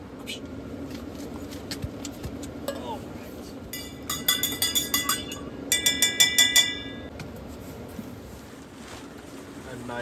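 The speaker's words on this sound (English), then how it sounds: "Titanium spoon here, nice and lightweight, tactical for your coffee mixing." A lightweight titanium spoon stirs coffee in a cup at a winter creekside tent camp, giving two bursts of rapid, bright rhythmic clinks over steady low background rushing.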